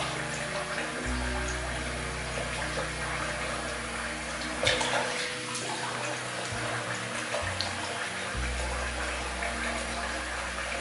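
Tap water runs steadily in a sink as a face is rinsed after a wet shave, with the flow pausing and resuming midway, close and moderately loud.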